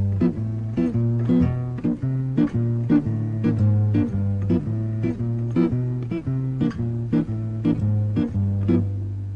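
Guitar chords land on the contrasting off beats against the on beats, a busy pattern of repeated stabs over low sustained bass notes, up close with no voices.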